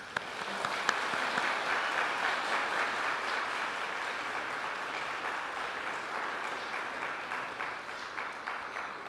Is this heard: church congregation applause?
yes